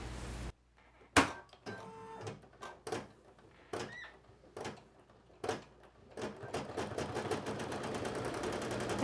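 An embroidery machine sews a satin stitch on plush fabric in a multi-position hoop, heard close up as clunks and knocks that settle into a fast, steady rhythmic stitching patter toward the end.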